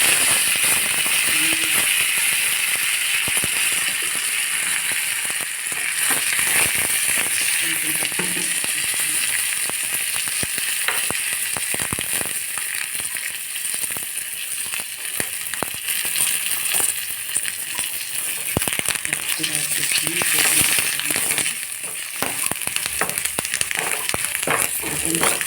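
Curry leaves and chana dal frying in hot oil for pulihora, a steady crackling sizzle that runs unbroken and fairly loud throughout, with scattered sharper pops.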